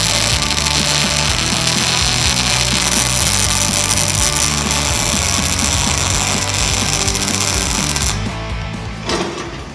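Arc welding demonstrated at travel speeds that are too slow, too fast and correct, giving a loud, steady crackling buzz that runs nearly unbroken before cutting out near the end.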